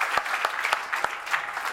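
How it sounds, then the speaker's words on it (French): Audience applause at a corporate awards evening on stage, a short burst of scattered, sharp hand claps at moderate distance, fairly faint and brief. "On les applaudit bien sûr, on applaudit Jérôme Le Saffre qui est avec nous sur scène."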